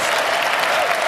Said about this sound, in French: Tout le monde se lève pour applaudir, sauf Joe Biden, Kamala Harris et les autres figures démocrates.